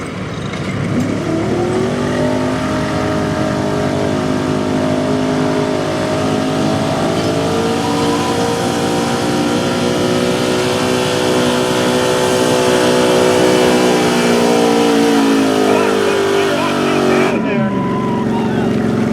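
Loud, sustained engine roar from a 2002 Chevy 2500 truck at a truck pulling contest, revving hard and climbing steadily in pitch over many seconds before cutting off abruptly, with crowd and announcer talk underneath.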